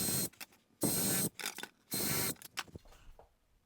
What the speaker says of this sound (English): a countersink drill bit and drill holes wherever the spacer boards align with the stud positions